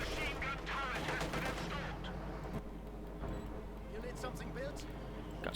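A StuG assault gun fires amid a Company of Heroes 2 battle, with sharp reports and rattling gunfire mixed under a commentator's continuous talk.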